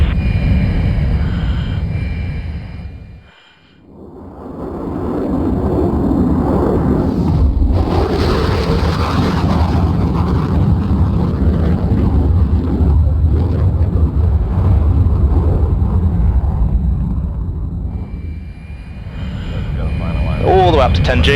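Simulated IFE F-35 jet in Microsoft Flight Simulator making a high-speed pass down the runway at about 600 knots, a loud sustained roaring rush that dips briefly, then surges and fades toward the end.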